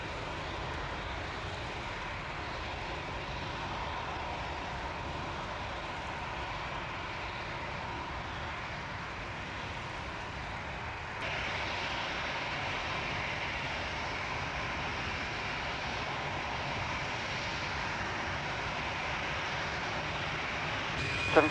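Aircraft on the runway at Manchester Airport after lining up on runway 23 left, a steady broadband engine roar at moderate distance that holds level throughout and grows slightly stronger about halfway.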